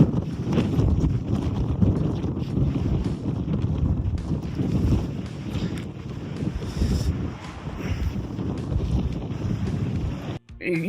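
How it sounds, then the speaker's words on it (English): Strong wind buffets the microphone on a seaside pier, a loud, steady broadband roar and rumble that gusts continuously, with a brief dip near the end. "You heard how windy it was"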